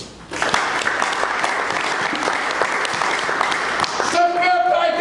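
A church congregation bursts into sustained applause that holds steady for several seconds, with shouts and voices mixing in near the end.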